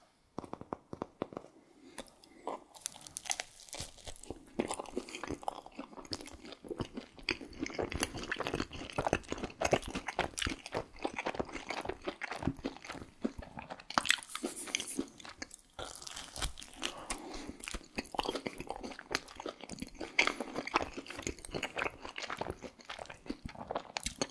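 Pizza being bitten and chewed up close, repeated crunchy bites followed by moist chewing and smacking in a steady rhythm, with no talking.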